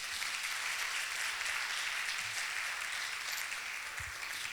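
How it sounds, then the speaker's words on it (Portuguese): A church congregation applauds in honour of Jesus, a dense, steady wash of many hands clapping at a distance, filling the whole stretch without talking. "Uma salva de palmas a Jesus."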